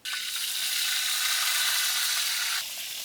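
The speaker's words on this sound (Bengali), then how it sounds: "তেল গরম হয়েছে, এখন আমি মাছটা দিয়ে দেবো তেলে ভাজতে নেওয়া হবে" Hachra fish drops into hot oil and a loud, steady, close sizzle starts at once, then eases slightly near the end, with no talking.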